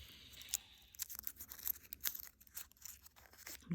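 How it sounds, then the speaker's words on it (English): Scissors snip paper for a craft daffodil, a series of short crisp cuts close by, spaced irregularly with faint rustling of the paper between them. "do little snips where the folds were"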